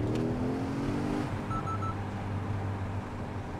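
Porsche Cayenne Turbo S engine running in sport plus mode, a steady low rumble with a brief rising rev near the start and a faint electronic chime partway through, heard from inside the car.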